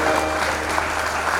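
Short burst of audience clapping in a hall, a brief even patter with no voice over it.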